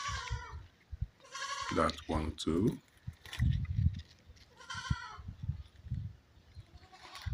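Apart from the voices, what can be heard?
goats bleating while eating ugu leaves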